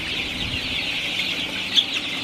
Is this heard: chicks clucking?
yes